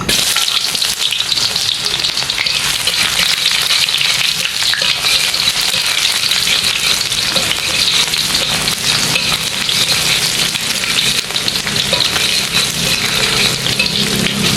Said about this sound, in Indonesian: Oke, yang pertama kita mau numis dulu engkolnya. Di sini ada bawang merah, bawang putih masuk.